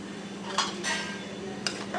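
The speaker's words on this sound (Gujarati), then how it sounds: "હવે આપણે ચોખા એડ કરી દેવાના છે એમાં." Rice tipped into a pot of boiling water, heard as a few brief clattering pours and scrapes over a low steady bubbling background.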